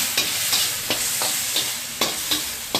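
Meat and king oyster mushroom stir-frying in a pan with black pepper, a steady bright sizzle broken by regular scraping stirs roughly every half second, close and loud.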